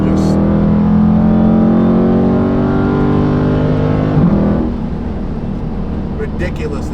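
A Dodge Charger Daytona 392 pulls away hard on takeoff, its V8 engine roaring loud and close in a rising rev that drops off abruptly near the end.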